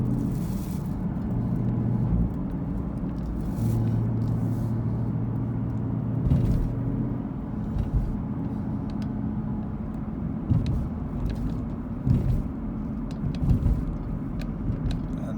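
A car drives along a hilly residential road in northeast Cleveland, Tennessee, its engine and tyres making a steady low rumble throughout with a few brief bumps and swells.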